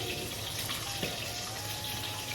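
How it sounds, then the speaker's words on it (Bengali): Dal (lentils) is poured out in a home kitchen, giving a continuous liquid gushing and splashing at fairly loud level that holds steady throughout, with no talking. "চলো ডালগুলো একটু ঢেলে দিই আমি"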